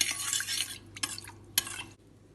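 A spoon stirs milk heating to a boil in a pot, making close scraping and clinking against the metal with a steady hiss that fades out near the end.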